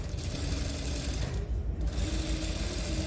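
A sewing machine stitches a trouser waistband in a fast, steady run of close, continuous needle chatter lasting a few seconds, with no talk over it.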